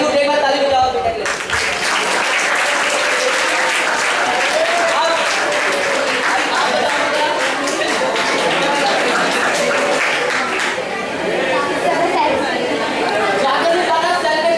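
A classroom audience claps for a student at a study program, with dense sustained applause that swells and eases over several seconds, mixed with crowd chatter and voices.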